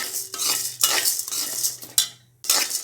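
Spoon scraping and stirring grated coconut as it dry-roasts in a pan without oil, repeated strokes, soft rustling and sizzling, no talking.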